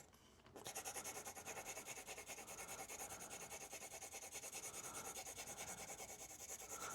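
A Graphito Royal graphite pencil rubs steadily across paper, a close, continuous scratchy rasp with a fast even stroke rhythm that runs alone for several seconds.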